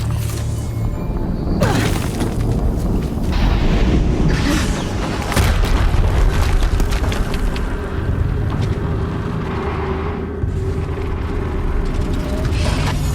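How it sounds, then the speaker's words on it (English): Video game explosions from Horizon Zero Dawn rumble loudly and continuously, with a sharp blast about a second and a half in and further booming bursts layered through a dense, roaring low-end din. "Another explosion."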